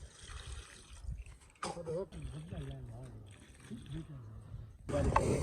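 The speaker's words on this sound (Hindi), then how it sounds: "पानी शामिल कर लेंगे" Water splashes and pours into a pot of mutton while a person talks over it, with a louder gush near the end.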